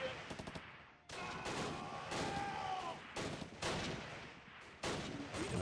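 Battle sounds from the Close Combat strategy game, set at the Arnhem rail bridge: mortar and rifle fire come as repeated bursts of mid-distance shots, with rattling volleys and short gaps of quiet between them.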